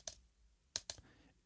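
Three sharp computer keyboard key clicks, used to start and stop playback in a music production session: one isolated tap, then two quick taps close together about a second later, near and dry with near silence between.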